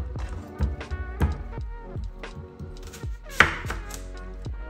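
A knife finely chopping an onion on a cutting board makes close, sharp, irregular taps in quick succession, with one louder knock near the end, and no talking.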